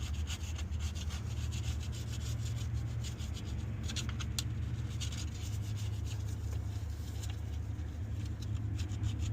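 A chisel scrapes an old gasket off a truck part, giving steady gritty rubbing and scraping strokes over a constant low background rumble.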